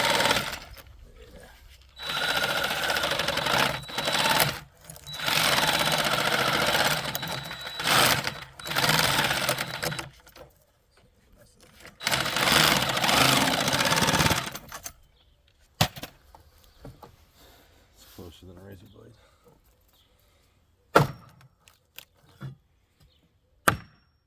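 A Sawzall reciprocating saw cuts through old deck boards in several loud buzzing bursts, each lasting a few seconds, followed by quieter clatter and knocks.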